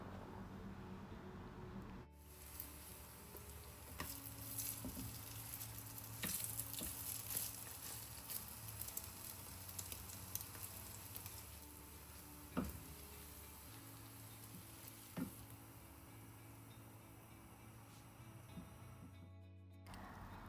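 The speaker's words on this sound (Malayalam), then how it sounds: "ഈ ഒരു പാനിലേക്ക് ഇട്ട് കൊടുത്തിട്ട് 2 സൈഡും ഒന്ന് തിരിച്ചും മറിച്ചൊക്കെ ഇട്ടിട്ട് ഒന്ന് ഫ്രൈ ചെയ്തെടുക്കുക" Egg-coated madakku pathal frying in a pan, a steady close crackling sizzle with occasional sharp pops and ticks, alone with no voices.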